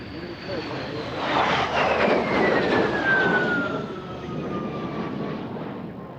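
A de Havilland Vampire T.55 two-seat jet trainer in a solo flying display at RAF Fairford's International Air Tattoo, its engine whine rising as it nears, swelling to a loud roar, then sliding down in pitch as it passes.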